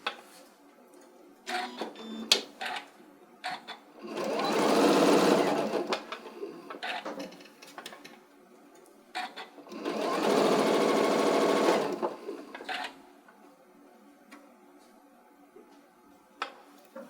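A sewing machine stitches fabric for a stuffed pumpkin in two sustained runs of rapid whirring, each lasting about two seconds, separated by quieter clicks and handling sounds.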